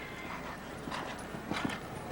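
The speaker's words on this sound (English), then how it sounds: "Look at the technique and the way this horse powers over the jumps." Hoofbeats from Rio Grande, a show jumping horse on a Grand Prix course, sound as faint, irregular thuds over a noisy arena background, with a few sharper strikes toward the end.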